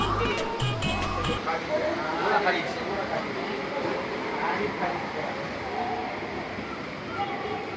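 Steady low rumble and rattle of a moving train carriage runs throughout, with a person talking over the noise.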